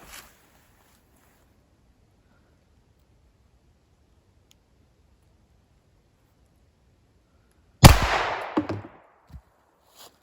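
A 12 gauge Brenneke slug fired from a shotgun at a bowling pin: one sharp, loud blast after a long quiet stretch, with a short ringing decay and a faint later knock.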